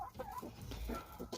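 Backyard hens around a favored egg-laying spot, giving a short burst of soft, close clucking in several quick bursts.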